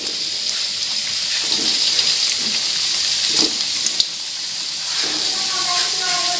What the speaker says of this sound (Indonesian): Harus langsung digoreng ya, jangan lama-lama.